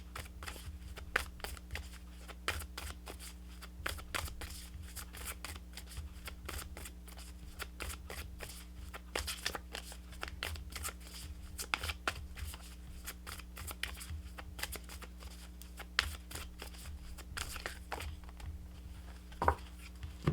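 A deck of tarot guidance cards is shuffled steadily for a long stretch, giving a close, soft stream of rapid riffling flicks and taps with a faint low hum underneath.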